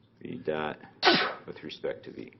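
A single sharp sneeze bursts out in a lecture hall during a statistical orbit determination class, sandwiched between a lecturer's close, steady speech before and after it.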